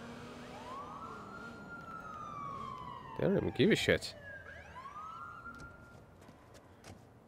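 In the video game Watch Dogs 2, police car sirens wail with rising and falling sweeps, fairly close, briefly interrupted by a voice speaking over them.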